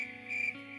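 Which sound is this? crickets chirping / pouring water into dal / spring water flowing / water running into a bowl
crickets chirping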